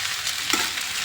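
Shavige bath (vermicelli upma) being stirred and mixed in a frying pan, a soft steady scraping and gentle sizzle for about a second, close and alone.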